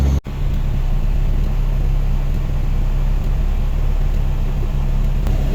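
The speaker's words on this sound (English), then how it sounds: "This winch is pretty slow. It's a pretty heavy winch." A heavy winch pulls a vehicle onto a trailer in a snowy field with frozen ruts, giving a continuous loud low hum and drone that runs unbroken after a brief cut at the start.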